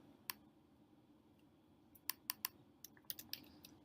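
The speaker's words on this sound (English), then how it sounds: "Type the title in." Someone types a product title on a computer keyboard: a sparse, quiet run of about a dozen crisp key clicks, mostly bunched in the second half.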